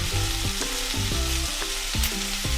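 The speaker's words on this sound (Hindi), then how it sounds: "आधा मिनट हो गया है सब्जियों को भूनते हुए।" Vegetables for veg jalfrezi frying over high heat in a pan, a loud steady sizzle broken by regular rhythmic clanks of stirring against the metal.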